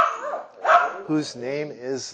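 A cockapoo, a Cocker Spaniel Poodle mix, lets out a few quick, eager yips and whiny barks up close, with soft whimpering between them.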